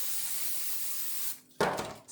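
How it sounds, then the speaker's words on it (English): Cooking spray hisses steadily onto a pan for over a second, close and loud, then stops, followed by a short clatter of the can or pan being handled. "Spray the pan."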